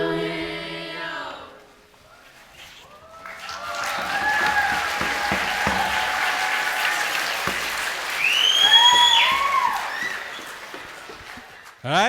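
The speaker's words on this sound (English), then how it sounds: "Another round of applause for them." At an arts festival, an audience applauds a grade 7 to 9 student performance. The last sung notes fade, then sustained clapping swells with high whoops and cheers rising near the end.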